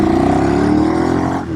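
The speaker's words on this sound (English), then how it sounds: "Oh, listen to that. Do you want to just hear the engine?" A Ducati Streetfighter motorcycle engine revs steadily and loudly at close range, its pitch holding high before easing slightly near the end.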